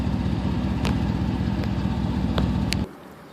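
A 1987 Pontiac Trans Am GTA with true dual exhaust idles steadily up close, a deep rhythmic burbling rumble with light ticking clatter, cutting off abruptly near the end.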